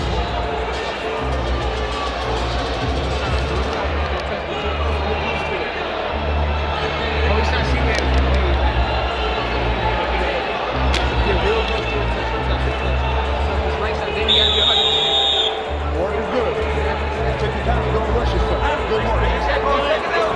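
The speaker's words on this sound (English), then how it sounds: "Big crowd in attendance here tonight." Large arena crowd murmuring at a women's boxing fight at Little Caesars Arena, a steady dense hubbub throughout with a commentator talking over it.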